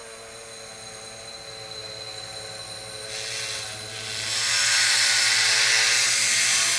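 A wire cup brush on a power tool scrubs rust from an M1 Garand bayonet, a steady high whirring grind that swells louder and harsher partway through as the brush bites harder into the metal.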